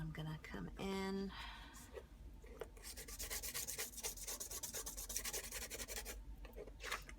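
Sandpaper rubbed across the surface of a photograph, a soft rhythmic scratching and rasping that runs steadily after a brief tonal sound near the start, recorded close up.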